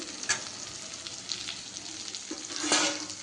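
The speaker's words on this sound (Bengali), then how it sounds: "বেগুনটা ভাজতে দিয়ে দিয়েছি নুন হলুদ দিয়ে" Brinjal sizzles in hot oil with salt and turmeric, a continuous crackling fry with small spatters and a louder burst near the end.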